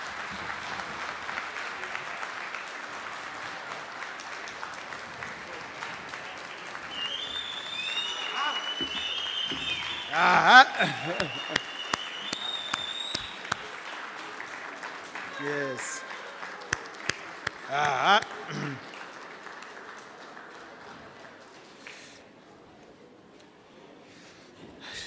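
Applause from an audience at a law faculty celebration mixes with speech, sharp clicks and bursts of noise, with a clear mid-clip surge of clapping before it thins out. People talk throughout.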